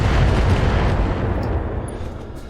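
A BattleTech video game volley: a heavy, rumbling burst of weapon fire and explosions, loud and dense from the start and fading slightly over a couple of seconds, with no talk.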